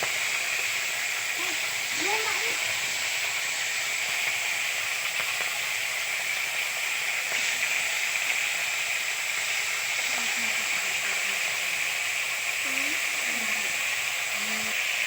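Bhola fish fries in hot oil in a wok, a steady, even sizzle and hiss that holds throughout, with a few faint background sounds.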